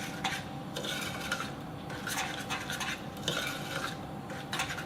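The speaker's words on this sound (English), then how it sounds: "whilst you continue to stir." A sugar mixture is stirred in a pan on the stove over medium heat, with a steady run of scraping and rubbing strokes and light clinks against the pan, repeated rhythmically and close by.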